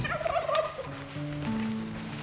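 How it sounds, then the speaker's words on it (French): A turkey gobbles in a rapid rattling burst, followed by a few lower sustained calls, heard fairly close on a countryside walk in the hills of Artois with no one speaking over it. "Toujours d'accord avec moi le dindon."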